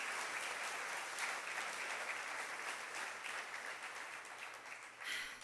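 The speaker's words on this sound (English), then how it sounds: "thanks so much for clapping" Sustained audience applause at Full Sail University's Hall of Fame induction ceremony, a broad wash of many hands clapping at moderate distance, steady throughout and swelling briefly near the end.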